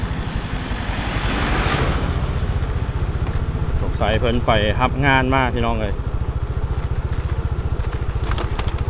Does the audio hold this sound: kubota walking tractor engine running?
yes